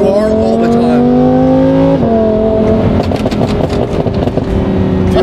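A Lamborghini driving close by, its engine revving and the exhaust crackling with pops, loud and up front with no clear talk over it.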